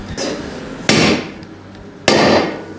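A heavy Thor hammer strikes a hard garage floor three times during brake work on a Bronco prerunner, each sharp impact ringing briefly before fading, with quiet gaps between hits.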